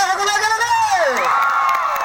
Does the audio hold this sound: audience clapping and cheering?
yes